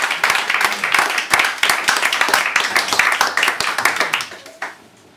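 An audience claps after a poetry reading, brisk dense applause of many hands that holds steady and then tapers off near the end.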